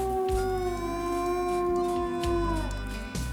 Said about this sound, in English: When I heard howling, I thought it was coyotes, and I got worried.